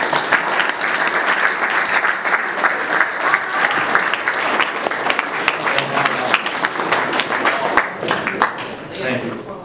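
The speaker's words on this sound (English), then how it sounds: "All of these gentlemen deserve a round of applause." A banquet hall crowd gives steady applause for award-winning student athletes at a school fall sports banquet, many hands clapping densely and evenly for nearly ten seconds before tapering slightly.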